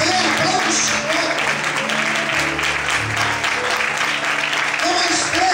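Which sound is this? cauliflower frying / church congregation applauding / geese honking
church congregation applauding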